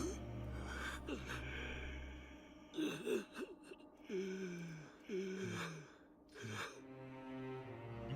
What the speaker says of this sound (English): There's always like two voices gasping there almost on top of each other.